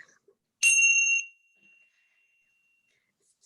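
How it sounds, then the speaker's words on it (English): A meditation bell is struck once, giving a bright metallic ding that rings on as a pure, steady tone and fades slowly over a few seconds in a quiet room. "I love that bell. I love that noise."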